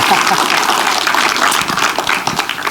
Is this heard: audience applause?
yes